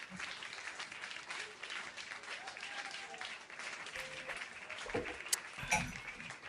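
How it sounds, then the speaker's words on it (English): Canned applause sound effect triggered from a button during a live show, a continuous patter of clapping with a few sharper spikes near the end. "Oh, I'm going to hit that applause button."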